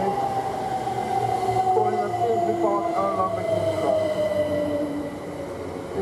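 A train rolls into the platform at Stevenage station with a steady loud rumble and rising, whining tones, continuous throughout as it arrives, with a public address voice speaking over it.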